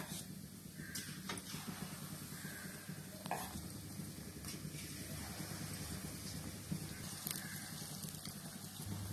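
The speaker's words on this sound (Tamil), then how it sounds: "ஒரு வானல்ல எண்ணெய் ஊத்தி எண்ணெய் காஞ்சோன்னு கொஞ்சம் கொஞ்சமா எடுத்து ஊத்திக்கலாம்" Kachayam batter spoons into hot oil in a pan over a medium flame and fries with a soft, continuous sizzle, broken by a few faint clicks and scrapes of a small ladle, fairly quiet with no talk.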